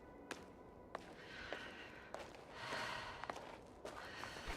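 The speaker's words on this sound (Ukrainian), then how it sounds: "Задишка з'являється. Ну, я думаю, в скафандрі не так вже й просто, напевно" Heavy, labored breathing from a spacesuited character in the video game The Invincible, soft repeated sighs and snorts with a few breathy gasps and light thuds, moderately close under a faint ambient hum.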